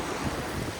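Sea waves break on Vetye beach on the Konkan coast, a continuous broadband wash mixed with wind buffeting the microphone, with no voices.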